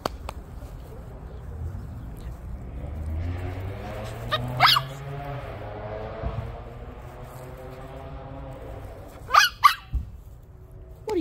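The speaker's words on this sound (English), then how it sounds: "What are you barking for?" A small dog barks and yips in short sharp bursts indoors, with a pair of quick barks near the end and whining tones between.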